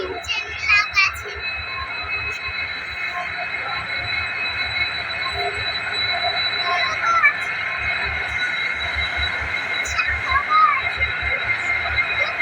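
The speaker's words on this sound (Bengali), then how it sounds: "এটা মালগাড়িতে আসছে এটা গুডস গাড়ি" A goods train rumbles past close by in Goa with a steady rolling roar, rhythmic clatter of wheels over rail joints, and occasional faint squeals.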